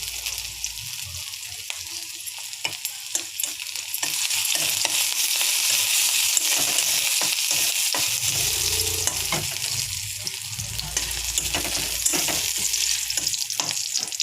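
Ginger and garlic fry in hot oil in a pan, a steady close sizzle with stirring scrapes running throughout and growing louder partway through.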